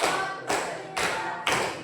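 Classroom pupils clap in unison during a counted clapping game, four loud synchronized claps evenly spaced about half a second apart, each a sharp burst that rings briefly before the next.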